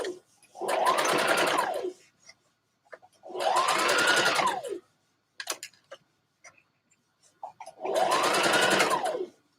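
Three bursts of a sewing machine stitching a dress, each running about a second and a half with a rising then falling whir, separated by pauses with faint clicks and handling noises.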